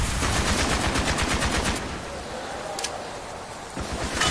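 Automatic gunfire in Call of Duty Black Ops on Xbox 360, a loud rapid burst of shots that stops partway, then quieter ambience with a short second burst, no clear speech.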